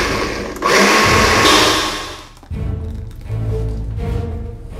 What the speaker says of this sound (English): Time for the blender.